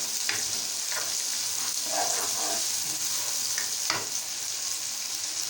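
Onions browning in half a cup of oil for Lahori chickpeas give a continuous close hiss of frying, with a few soft clicks of stirring now and then and no speech.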